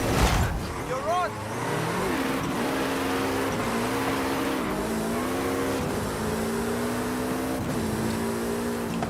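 A fast car racing in Forza Horizon 5, its engine droning loud and close with a sustained roar that rises and dips as it shifts through gears, a brief voice near the start.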